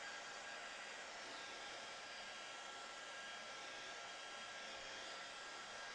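A hair dryer blowing steadily on a painting, a constant airy whir held at even level throughout with no voices.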